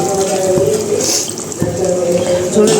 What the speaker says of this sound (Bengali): ঝোলের জন্য জল দিয়ে দিলাম।